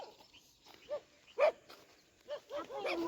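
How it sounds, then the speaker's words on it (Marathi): Several dogs barking in short separate bursts at a farm field, moderately distant, spread across a rural outdoor scene with faint background noise. "हे कुत्रे का बरं भुकू राहिले"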